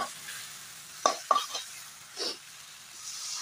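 Water poured into a pan of frying spices makes a brief sizzle and a few clanks of a utensil against the pan, with quiet frying between the bursts.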